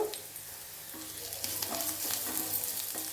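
Crushed garlic and asafoetida frying in a pan for a moong dal curry, a steady crackling sizzle with soft stirring scrapes, close and fairly quiet throughout.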